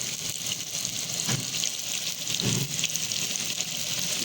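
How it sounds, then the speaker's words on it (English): A large onion frying in butter in a pan gives a steady, bright sizzle with a couple of soft low thumps from stirring, close and alone without talk. "So now I'm taking here 1 large onion. We will fry it."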